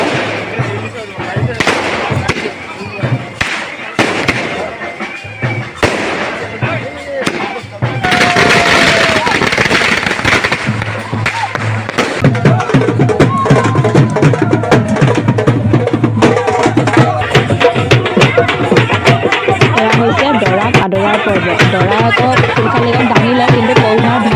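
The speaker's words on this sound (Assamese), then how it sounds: "আপোনালোকেও শুনক অলপ ফটকা শব্দ" Firecrackers burst nonstop during a wedding procession to fetch the bride, rapid loud crackling bangs in dense volleys that grow into a continuous roar, with people talking underneath.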